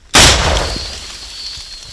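A single loud weapon shot erupts suddenly, followed by a long rumbling decay that fades over the next two seconds; no voices.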